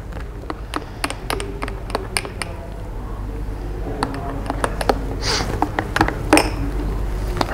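A spoon stirs a honey-sweetened drink in a glass, giving a run of sharp, irregular clinks and taps against the glass over steady low background hum, with no talking.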